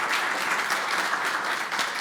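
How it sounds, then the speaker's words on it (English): A conference audience applauds a panel at an interfaith event, steady dense clapping filling the whole stretch at moderate volume with no speech over it. "Join me in a round of applause to our panelists"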